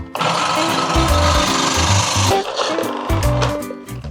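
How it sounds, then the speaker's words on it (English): Steady, rhythmic rasping and scraping of pumpkin being grated, loud and close, with music playing underneath. "The first thing you can do is grate your pumpkin."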